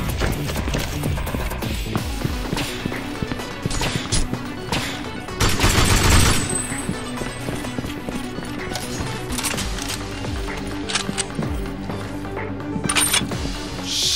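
Rapid gunfire from firing weapons in the shooter video game Binary Domain, a loud, continuous burst of overlapping shots with a denser blast near the middle and busy combat noise throughout.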